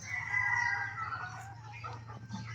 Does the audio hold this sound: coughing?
no